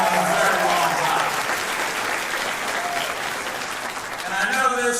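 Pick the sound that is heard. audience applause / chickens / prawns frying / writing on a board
audience applause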